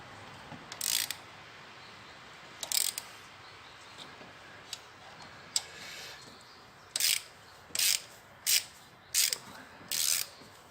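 A socket wrench fitted with a 7 mm Allen bit ratchets as it loosens the injector clamps on a Peugeot 308: a few scattered ratcheting bursts, then a quicker run of five short, crisp bursts close by, with no talking.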